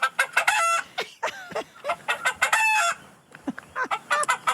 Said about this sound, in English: It's a chicken! Did you hear that?